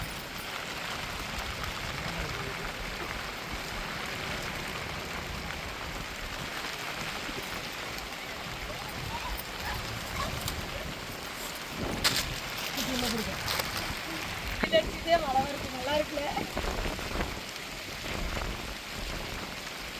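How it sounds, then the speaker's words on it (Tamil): Steady rain falls by the sea near a guest house, a dense continuous hiss of drops on surfaces that swells slightly toward the end. "இப்போ பாருங்கள் மழை பேஞ்சிக்கிட்டு இருக்குது"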